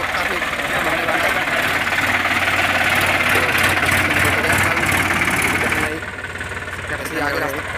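Sonalika 745 tractor engine idling and chugging steadily on a muddy rural road, a continuous low rumble with knocking vibration that drops slightly near the end, with a voice talking over it.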